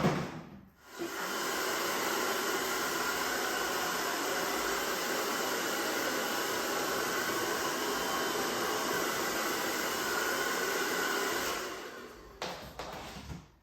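A hair dryer blows on a client's hair in a seaside salon, giving a loud, steady airy hiss that starts after a brief click and runs evenly for about ten seconds before cutting off.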